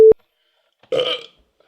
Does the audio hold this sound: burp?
yes